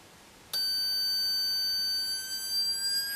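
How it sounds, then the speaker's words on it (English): An electronic beeper in a homemade acoustic switch burglar alarm circuit cuts in abruptly after half a second, sounding as a steady, loud, high-pitched piercing tone that holds alone to the end. "the beeper starts to work."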